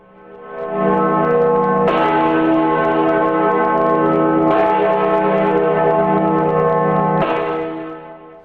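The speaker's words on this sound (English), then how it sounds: "The Great George Bell remains an integral part of this great academic building." The Great George bell of a university academic building tolls three times, each deep resonant strike ringing out loudly and sustaining with a long humming decay that overlaps the next.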